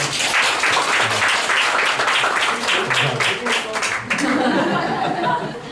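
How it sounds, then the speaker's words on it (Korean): A church congregation applauding steadily for several seconds during a Sunday service, dense clapping with some voices and murmurs mixed in, fairly loud and close. "박수를 한번 격려해 주시겠습니까?"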